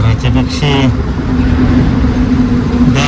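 A car goes by on a dusty road in Pushpak Nagar, its engine and tyre noise a steady broadband rumble throughout, with a person talking over it at the start and again near the end.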